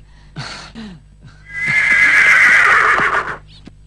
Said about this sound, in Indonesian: Pendekar, kuda sudah siap